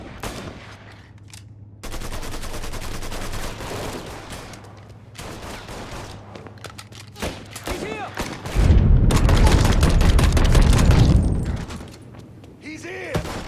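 Gunfire in the video game Mafia III: Definitive Edition, with loud sustained automatic bursts and rapid shots that build into a dense, booming volley before tapering off.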